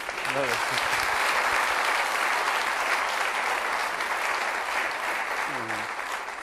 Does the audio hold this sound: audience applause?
yes